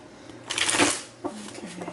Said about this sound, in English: One more shuffle for Sagittarius.